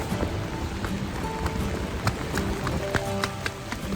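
Steady rain patters down while hurried footsteps slap along wet ground, a few sharper splashes and knocks standing out near the end.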